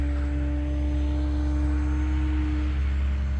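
An E-flite Extra 300 radio-controlled model airplane flies with a sustained, steady propeller and motor whine, a loud continuous drone that holds nearly level from start to finish.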